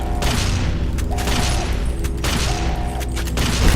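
Laser turret fire in Fallout: New Vegas Dead Money, loud repeated blasts and booming bursts in a dense, continuous barrage, with short tonal zaps recurring roughly every 1.4 seconds.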